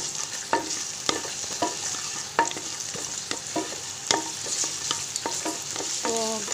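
Garlic frying in a pan over a medium gas flame, a steady close sizzle broken by repeated sharp scrapes and taps of a spoon against the pan.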